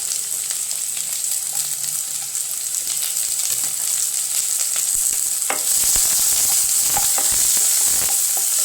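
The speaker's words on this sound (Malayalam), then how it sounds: "കടുക് പൊട്ടിക്കഴിഞ്ഞാൽ നമുക്ക് ഇതിനകത്തേക്ക് സവോള, പച്ചമുളക്, ഇഞ്ചി, പിന്നെ വെളുത്തുള്ളി ഇത്ര സാധനങ്ങൾ ഇട്ട് കൊടുക്കാതെ" Onion, green chili, ginger and garlic frying in a pan after mustard seeds, a steady loud sizzle with stirring scrapes, growing a bit stronger partway through.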